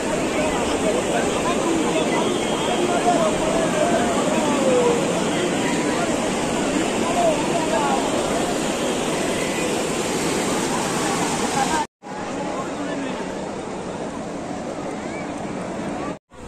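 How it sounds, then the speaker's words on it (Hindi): Sea water surges in and out over steps at a beach, a continuous loud, broad wash of churning water and surf with wind noise on the microphone, briefly cutting out near the end. "पानी वापस आ रहा है या जा रहा है,"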